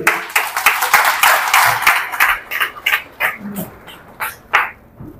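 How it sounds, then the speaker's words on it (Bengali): Audience applause at a health and wellness awareness programme in Guwahati, Assam: a dense burst of many hands clapping that gradually thins into scattered claps and fades out. "তো বিশাল করে একটা ক্ল্যাপিং হয়েছে।"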